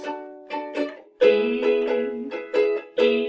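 Acoustic guitar strumming a chord progression in an island strum pattern, with several close, bright chord strokes in quick rhythmic succession.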